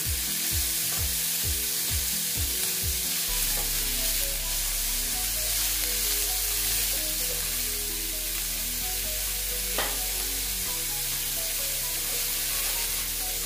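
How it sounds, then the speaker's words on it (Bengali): Plenty of chopped onion fries in a pan for dal posto: a steady close sizzle runs throughout under loud sustained low tonal hum and music-like notes, with pulsing at the start and no speech. "দেখো, আমি অনেকটাই পেঁয়াজ নিয়েছি। নিয়ে এটা আবার ভেজে নিচ্ছি।"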